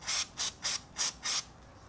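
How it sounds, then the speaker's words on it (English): Five short, even bursts of hissing aerosol chain lube are sprayed onto a Yamaha FZ-07 motorcycle chain, close up, each about a quarter second long with brief pauses between. "You can actually spray in there better, or if you want, you can spray from a far distance"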